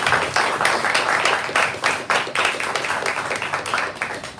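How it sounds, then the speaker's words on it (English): A small audience at an author event gives a brief round of applause, steady close clapping from many hands that fills the whole stretch at a moderate level. "Give him a little round of applause."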